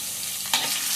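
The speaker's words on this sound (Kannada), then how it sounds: "ಎಣ್ಣೆಯಲ್ಲಿ ಫ್ರೈ ಮಾಡುವುದರಿಂದ ತುಂಬ ರುಚಿಯಾಗಿರುತ್ತೆ ಪಲ್ಯ." Onions frying in hot oil for beetroot palya give a steady, close sizzle, with a brief louder burst of stirring midway.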